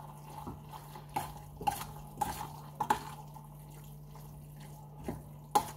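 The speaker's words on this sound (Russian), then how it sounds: "теперь мы это все берем и мешаем. Мешаем хорошенечко." A spoon stirring a dish while cooking, giving a string of separate clinks and scrapes against the bowl with pauses between them, close and fairly quiet over a steady low hum.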